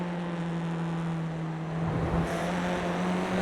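Craig Williams' race car drones with a steady, sustained engine tone in a sim racing league round at Charlotte, a second car's engine swelling in and passing near the middle.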